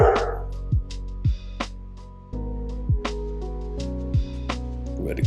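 A dog barks in short, sharp yaps with a few whimpering yips mixed in, loud and close, while a low steady hum runs underneath.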